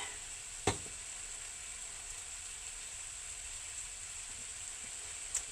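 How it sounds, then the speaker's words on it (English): Chili sizzles in a pan as a faint, even frying hiss that runs throughout, broken by a couple of soft clicks from the cookware, with no voices. "That's sizzling now. I can hear it sizzling."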